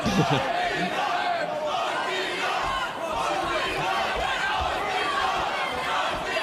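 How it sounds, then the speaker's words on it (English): A crowd at a boxing or fight event roars steadily in support of a Polish fighter, loud and sustained throughout as a dense, continuous wall of cheering and shouting. "a surge of support for the Polishman in the crowd here"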